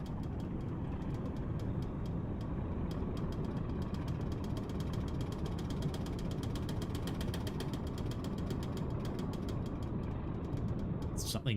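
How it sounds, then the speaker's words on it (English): Diesel railcar engine in the Diesel Railcar Simulator game, a steady loud rumbling drone with a faint rattle running throughout, broken by brief clicks near the end. "Something rattling away back in the engine compartment back there."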